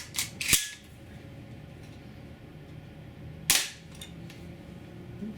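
An old Daisy air rifle fires two sharp, close pellet shots through a chronograph about three seconds apart. Each crack fades quickly into a quiet room, with no talking.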